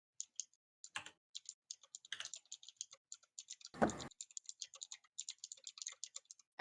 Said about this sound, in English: I hear mad typing.